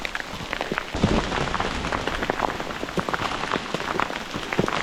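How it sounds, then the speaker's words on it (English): Hail pelting a hiker's rain jacket during a severe mountain storm, a dense, continuous patter of sharp impacts, loud and close, with no voices over it. "Never been in hail this bad in my life."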